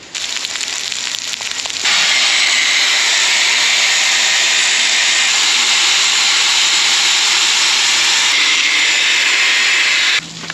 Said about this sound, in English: Need to grind that off.